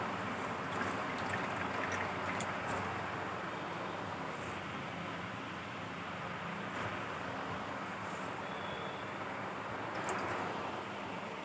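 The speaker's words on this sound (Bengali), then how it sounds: "এভাবে খুব ভালো করে জল ছেঁকে নিতে হবে" Water runs and trickles steadily as washed potatoes are strained, a continuous close wash of flowing sound with a few faint clinks.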